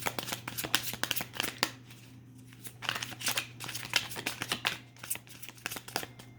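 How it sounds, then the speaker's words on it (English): Tarot cards being shuffled by hand, a run of quick papery riffles and slaps that comes in bursts with short pauses between them, close and moderately quiet, no talking. "you're going to be hearing me shuffle for a little bit"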